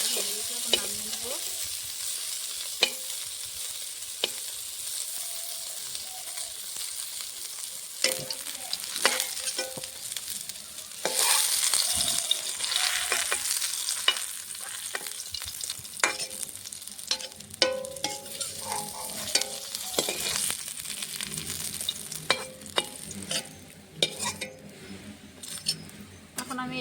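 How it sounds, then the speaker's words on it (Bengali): Carrot and potato pieces fry in hot oil for a Bengali mixed vegetable dish, a steady close sizzle broken by frequent stirring scrapes and metallic clinks of the spatula against the pan. "আমি এই তেলে গাজর আলুটা ভেজে নেব।"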